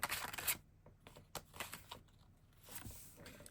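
Tarot cards are shuffled in quick, crisp riffling bursts with papery flicks and soft taps, close and fairly quiet.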